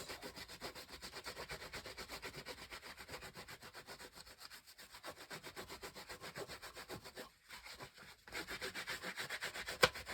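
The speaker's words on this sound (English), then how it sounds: "I'm wiping it down again. Scrubbing it off." A cloth scrubs ink off a large block rubber stamp in quick back-and-forth rubbing strokes, a soft, even rasp close by with a couple of brief pauses and no talking.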